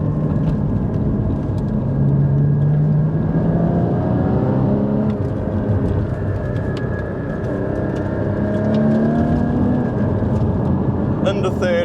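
Porsche 981 Cayman GT4 engine pulling hard through second gear on winding roads, a loud sustained rising engine note climbing in pitch under someone talking.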